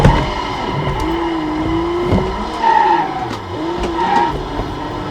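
A Mercedes W124 sliding in BeamNG.drive, its tires squealing in drawn-out wavering screeches over a steady engine drone, loud and close, with several bursts of skidding in a row.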